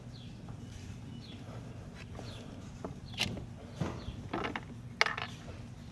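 A spring drops out of a 2003–2008 Hyundai Tiburon clutch slave cylinder as its bleeder bolt is loosened, giving a few small, sharp metallic clicks and a light clatter close by over low background hum.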